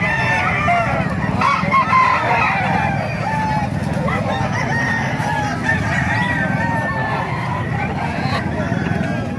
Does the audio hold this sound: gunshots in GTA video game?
no